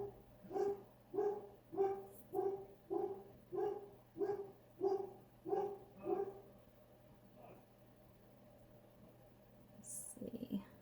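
Dogs bark at home in a quick run of about nine evenly spaced, moderately loud barks, followed by a short quiet stretch and a brief rustle at the end.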